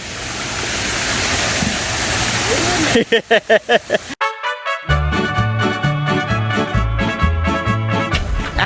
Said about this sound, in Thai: น้ำตกจำลองครับ